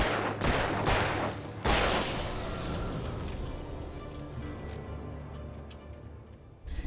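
Bursts of gunfire ring out in the horror video game Alan Wake, a loud clustered volley up front followed by a lingering, fading rumble as the shots die away.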